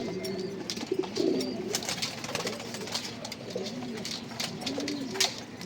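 Healthy pet pigeons coo repeatedly while feeding, soft rolling calls recurring close by over a low background with occasional light pecking and rustling clicks.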